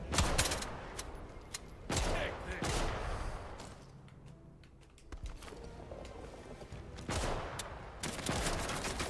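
Bursts of gunfire in the Atomfall video game, set in Casterfell Woods, with several rapid volleys of sharp shots separated by quieter gaps, loud and close.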